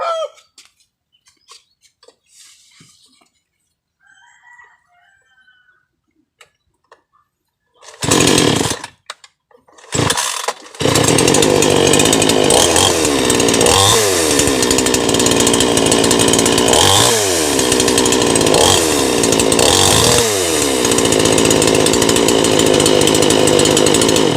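A 58cc chainsaw fitted with a 25-inch guide bar starts after a few pulls, then runs loud and close, its engine revving up and down in repeated surges; roosters and chickens call faintly during the quieter opening.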